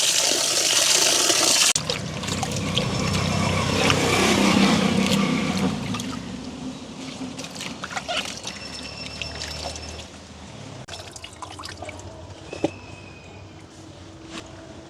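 Chillies are rinsed in water in a village kitchen, with steady splashing and trickling that is loudest at first, then settles into intermittent swishes and drips close by.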